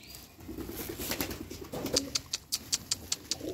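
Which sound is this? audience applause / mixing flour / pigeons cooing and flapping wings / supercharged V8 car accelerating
pigeons cooing and flapping wings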